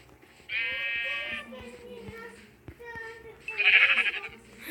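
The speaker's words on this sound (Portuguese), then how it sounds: "Mais duas ovelhas, mais duas ovelhas." Sheep bleat in a video game, one cry early and a louder one near the end, heard under children and an adult talking.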